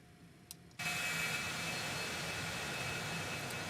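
A Citation X business jet in the X-Plane 12 flight simulator spools up, a sudden loud, steady engine roar with a thin high whine kicking in after a quiet opening and holding on.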